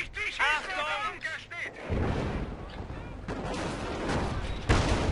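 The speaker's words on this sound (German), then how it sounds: "Sie schießen auf mich!" Gunfire crackles through a Company of Heroes: Tales of Valor battle, with a dense, continuous rattle of shots and booms. A voice talks over the fighting.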